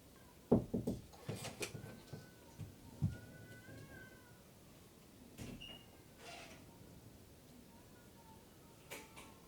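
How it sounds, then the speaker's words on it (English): Cats fighting outdoors, heard faintly from a distance: scattered yowls and sharp screeches rising in irregular bursts over quiet room noise, with gaps of near-silence between outbursts. "there are cats having a fight outside"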